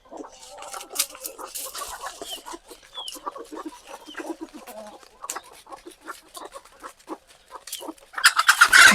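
Free-range desi chickens on a farm keep up busy, overlapping clucks and short calls close by, with some louder squawks toward the end.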